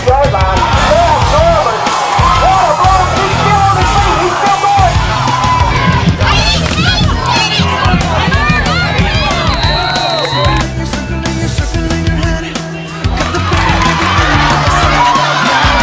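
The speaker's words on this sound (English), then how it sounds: "The Greyhounds always have a large crowd at their games" A large crowd at a six-man high school football pep rally in Throckmorton, yelling, whooping and cheering in loud overlapping bursts across a long stretch, with shouted voices throughout and a brief dip near the end.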